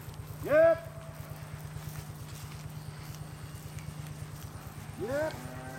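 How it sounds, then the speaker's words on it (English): Black Angus cattle give two brief lowing calls a few seconds apart, fairly close, over a steady rhythmic ticking in the background. "These are cows."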